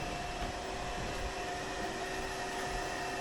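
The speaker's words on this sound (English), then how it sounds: "Got the vacuum pulling on it right now." Steady, fairly loud vacuum motor drawing air from behind a newly installed above-ground pool liner, a constant whooshing drone with no breaks.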